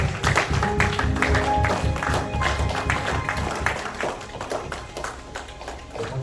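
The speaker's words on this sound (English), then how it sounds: "Let's continue to clap our hands as we thank God for the tribe of Judah." Church congregation clapping hands steadily in a loud, sustained mass of claps, with voices and music mixed in throughout.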